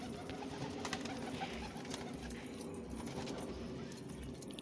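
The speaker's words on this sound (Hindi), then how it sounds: "आ रहे हैं सारे कबूतर बाहर" Homing pigeons coo softly as they come out of their loft onto a rooftop at evening feeding time, the faint low calls blending into steady outdoor background noise.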